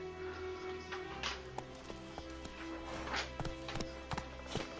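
Roach, Geralt's horse in the video game The Witcher 3: Wild Hunt, walking with irregular hoof clops over a quiet, faint game soundscape of tonal music and ambience.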